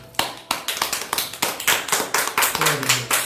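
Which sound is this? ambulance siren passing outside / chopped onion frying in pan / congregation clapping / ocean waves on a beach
congregation clapping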